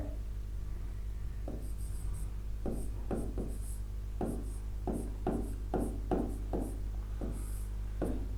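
Chalk or marker strokes scrape across a classroom board in quick rhythmic bursts, a dozen short writing strokes close by with a steady low hum behind them and no talking.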